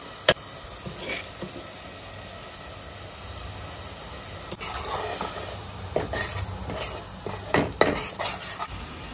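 Mustard paste being stirred into a curry in a pan, with soft scraping and wet stirring sounds over a low sizzle and occasional sharp metallic clinks of a spoon against the pan.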